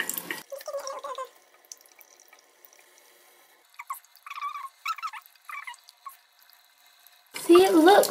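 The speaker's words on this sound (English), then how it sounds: "See, it looks all watered now." Water being poured onto a potted plant indoors, a brief trickling splash early on and another louder pour at the end, with someone talking and quiet gaps between.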